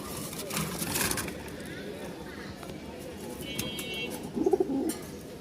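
Pigeons coo in a cage at a Bangladeshi pigeon sale, a few soft low coos rising near the end among background chatter and rustling; people talk throughout.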